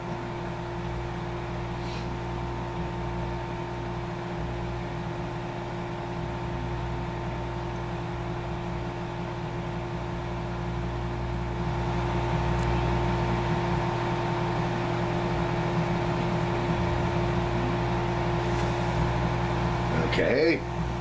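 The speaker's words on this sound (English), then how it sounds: "put your snow in the microwave and you'll see what happens" Microwave oven running while heating fake snow, a steady electrical hum and drone throughout, slightly louder in the second half, with a faint click near the end.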